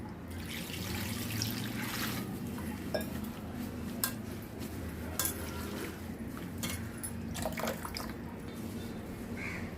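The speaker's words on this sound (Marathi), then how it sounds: "भाजी आपली मस्त साफ करून झालेली आहे आता मी याला दोन पाण्याने धुवून घेते" Cleaned moringa (drumstick) leaves are swished and rinsed in water in a kitchen vessel, producing continuous trickling and sloshing with faint clinks of the container, fairly quiet and close.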